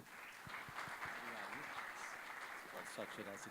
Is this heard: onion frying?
no